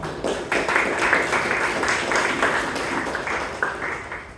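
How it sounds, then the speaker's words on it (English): Audience applause at a Toastmasters club meeting in Bangalore, a dense, steady wash of many hands clapping that holds at an even level for the whole stretch. "A big round of applause to the TMOD of the day, that is Bhavana"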